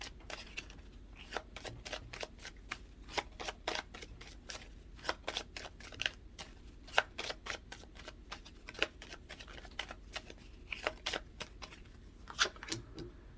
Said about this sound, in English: let me go ahead and just shuffle these